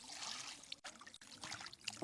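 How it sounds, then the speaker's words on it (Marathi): Water trickles and splashes faintly in short, uneven pours as chicken is washed, quiet and close, with no talking. "आता पाणी टाकते. आता असं मस्त पैकी धुवायचं"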